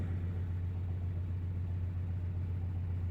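A 2016 Ford Mustang's 2.3-liter replacement engine idles rough with a steady low rumble and a slightly uneven, pulsing throb, check engine light on, heard up close with no talking.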